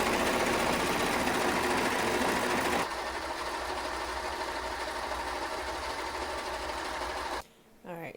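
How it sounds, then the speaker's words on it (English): A serger overlock machine sewing dress fabric whirs rapidly and continuously, a dense buzzing hum that lightens midway, then stops abruptly near the end. "he doesn't have to hear the beautiful sound of my serger"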